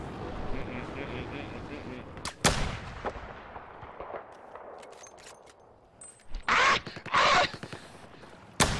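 Battlefield 4 gunfire: sharp, loud sniper-style shots and explosive bursts crack out at intervals, with a dense cluster of heavy blasts near the end over a low battle rumble and faint background talk.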